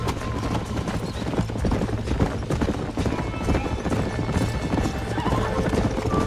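Horse hooves gallop in Red Dead Redemption, rapid clip-clop beats in a steady rhythm with a whinny mixed in, moderately loud and close, with no talk over it.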